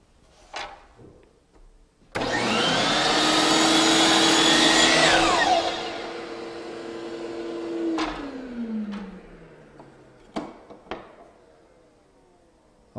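Power saw cutting through a piece of trim stock, a loud whining cut that lasts a few seconds and then winds down, with sharp knocks and clunks of the wood being handled before and after.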